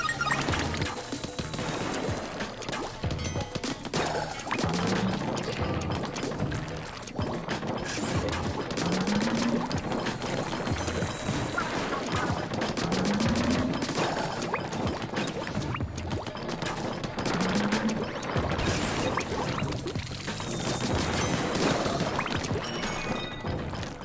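Shooting in Splatoon 2's Octo Expansion, a dense, continuous barrage of splattering ink shots and crashing impacts over game music, with occasional rising chime-like tones throughout.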